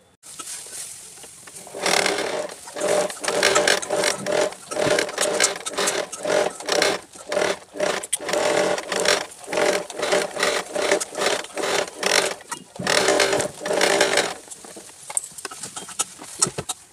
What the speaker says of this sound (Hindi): ये जो हमने रेडी किए हैं इसे इस तरह से रखकर पूरी गोलाई में स्टिच करेंगे।